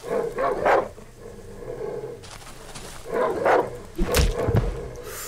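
Hostile dog barking in the survival horror game Darkwood, with several sharp, loud barks in short bursts over a low, dark ambient backdrop.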